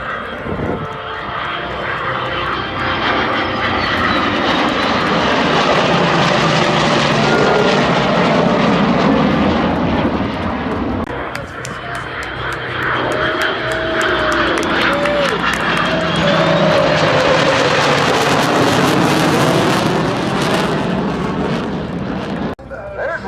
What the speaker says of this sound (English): F-22 Raptor, owned by Major Paul Loco Lopez.